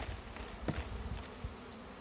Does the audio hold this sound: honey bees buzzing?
yes